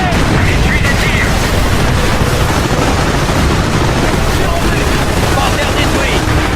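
Dense, continuous battle din of gunfire and booming blasts from the World War II strategy game Company of Heroes, with a Panther tank in the fight, loud and unbroken throughout, with voices over it.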